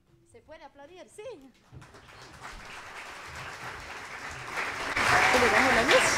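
At a cantata marking 500 years of the Protestant Reformation, a voice is heard briefly before audience applause rises from scattered claps into loud, sustained clapping.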